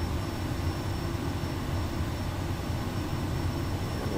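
A Kodiak 100 turboprop engine running steadily just after startup in a flight simulator, a continuous broadband roar with a thin high whine, loud and unchanging throughout with no voices.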